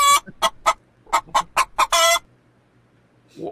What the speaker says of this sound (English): what is the relevance of the chicken clucking?